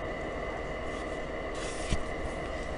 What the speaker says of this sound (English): Sorry about the background noise, it's the air conditioner